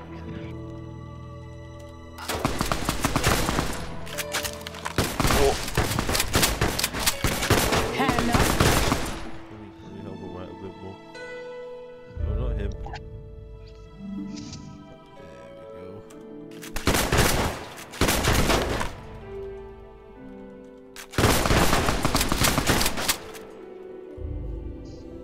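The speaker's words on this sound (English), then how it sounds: "they're shooting the fucking air instead" Soldiers fire guns in a video game, with long rattling bursts of rapid automatic gunfire coming in several loud waves separated by quieter stretches of game music and ambience, with no talk.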